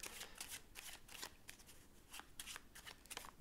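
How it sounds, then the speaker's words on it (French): Playing cards being shuffled during a magic trick, a quiet, close run of rapid riffling bursts repeating steadily with short gaps, with no talking. "on va mélanger à nouveau les cartes"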